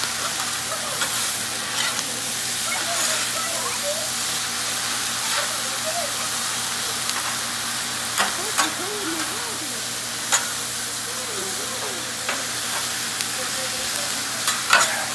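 Beef cooking Asian style in a hot pan, a continuous sizzle and hiss broken by scattered pops and occasional scraping stirs, steady and fairly close, with no one talking.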